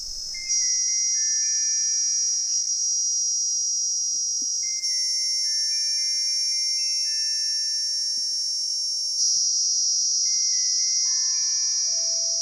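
A continuous, piercing high-pitched cicada drone in the Kalahari, steady and loud throughout, shifting slightly in tone partway, with faint thin tones beneath.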